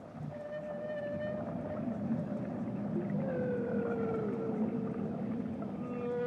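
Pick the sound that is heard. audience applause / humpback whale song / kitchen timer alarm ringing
humpback whale song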